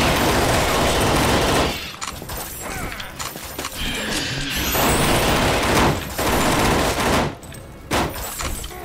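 Heavy gunfire in NecroVisioN: Lost Company, loud and continuous automatic bursts with brief pauses, dense and close over a busy game soundscape.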